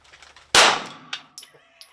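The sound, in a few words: 9mm pistol shot fired from a Ransom Rest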